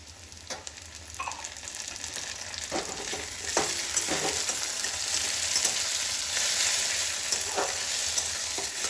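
Tomato frying with onions in a pan for matar dal ghugni, a steady hiss of sizzling oil with occasional spoon scrapes and knocks as it's stirred, close and moderately loud without talk.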